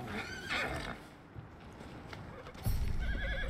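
A horse in the video game Red Dead Redemption 2 whinnies loudly near the start, followed by quieter snorts and shuffling, then a sharp rising neigh closes the sequence.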